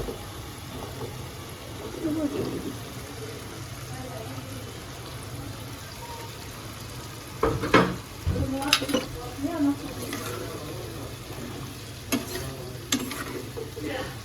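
Yardlong beans added to a pan and frying for a curry with local koi fish, a moderate sizzle with clattering stirring bursts in the second half, a voice speaking over parts of it.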